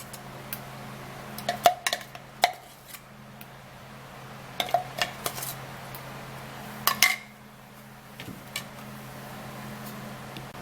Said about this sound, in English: I'm going to be putting it into the bowl.